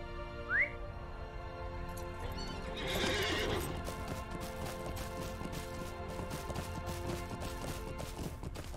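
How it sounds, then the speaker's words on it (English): A short whistle is followed by a horse whinnying, then hooves pound in a rapid galloping rhythm that continues steadily to the end, in the video game Lord of the Rings Online. "Hop on our horse."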